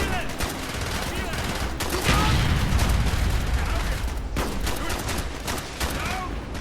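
Rapid gunfire fills a firefight in Call of Duty: Black Ops, with dense, loud bursts of automatic shots and booms overlapping as soldiers shout in German.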